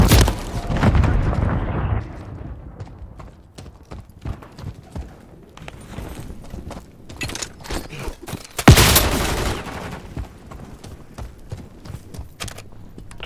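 Gunfire and a grenade blast in the video game Call of Duty Modern Warfare III: loud bursts and rapid clattering shots open the clip, and a sharp, heavy explosion hits near the middle.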